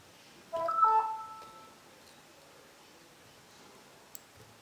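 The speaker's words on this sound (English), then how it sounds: "Hopefully that's my phone with somebody texting me who wants to meet and go fish right now." A phone's text-message alert sounds nearby with a short burst of bright electronic tones, then fades into a quiet room with a single faint click later.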